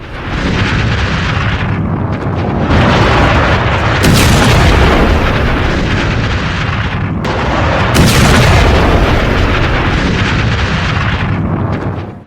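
A building in Beirut collapses under Israeli bombing of a reported Hezbollah site. A loud, continuous rumbling roar swells into two heavy surges several seconds apart, with no voices.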